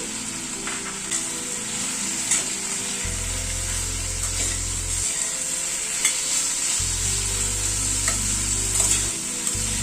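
Grated coconut sizzles steadily in a pan over a raised gas flame, added to a lentil dal with drumsticks, with occasional scraping stirs over a constant low hiss.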